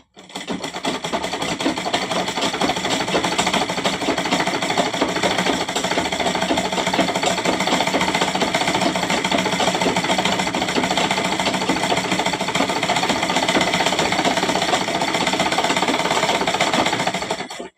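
A sewing machine runs a long straight seam on a pillow cover, its steady rapid mechanical stitching loud and continuous from start to finish with no pauses.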